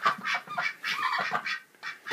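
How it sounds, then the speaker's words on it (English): Ducks calling, a run of loud, close, honking quacks in quick bursts with short gaps, several birds overlapping. "And there's the ducks. They're freaked out."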